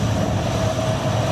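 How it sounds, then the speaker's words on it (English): Coast Guard plane taxiing on a runway at the EAA Oshkosh airshow: a steady, loud engine drone with a constant low rumble and a faint tonal hum, uninterrupted and without voices. "this is a Coast Guard plane that had just come in"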